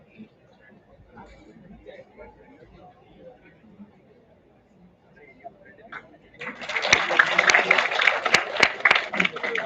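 A big round of applause breaks out at an international conference as a memento is presented, loud dense clapping that starts abruptly partway through after quieter murmuring and chatter.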